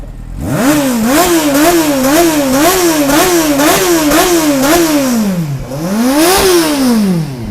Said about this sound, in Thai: เฮ้ยนิ่ม ทีเดียวติด